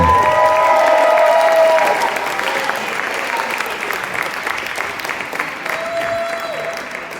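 An audience at a prize-giving ceremony applauds the winners, a loud, full burst of clapping that slowly thins and quiets over several seconds, with a faint whistle-like tone cutting through near the start and again near the end.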